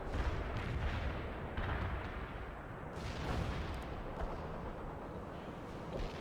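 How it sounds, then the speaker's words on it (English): An artillery barrage in the video game World in Conflict, with heavy overlapping booms and rumbling blasts rolling continuously, loud and close, with a few sharper impacts standing out. "Launching a barrage."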